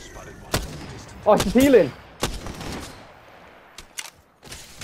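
Gunfire in the Apex Legends video game: a few sharp broadband shots scattered through the clip, separated by short gaps, with a voice speaking briefly over them.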